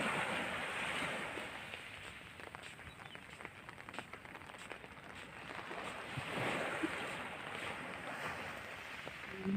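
Sea waves at Repulse Bay Beach, Hong Kong, on a rainy day: a steady, hissing wash of surf that swells and eases, with wind buffeting the microphone and no voices.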